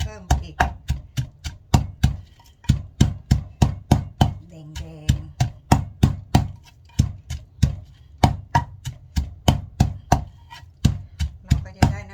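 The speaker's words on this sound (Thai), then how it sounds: "ใช้พริกที่เราคั่วแล้วแหละพี่น้องมันก็ตำง่าย" Roasted dried chilies pounded by hand in a mortar for Thai red curry paste, a steady series of loud, sharp thuds of pestle on stone repeating for the whole stretch with no talk.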